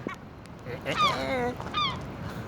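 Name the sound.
birds honking, likely geese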